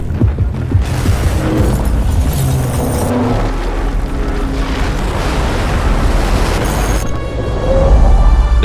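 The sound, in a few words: tower collapsing with explosions in a video game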